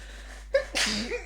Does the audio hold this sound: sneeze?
yes